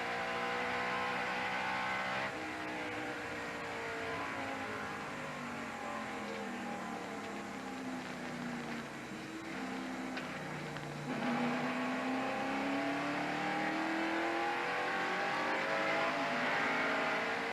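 NASCAR stock cars roar at speed during the 1990 GM Goodwrench 500, a steady loud engine drone with overlapping pitch shifts as cars accelerate and pass, heard from in-car perspective.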